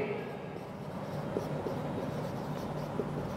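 A marker or chalk scratches across a board during a Class 8 maths lesson, in faint, steady strokes with a few light taps, close and quiet.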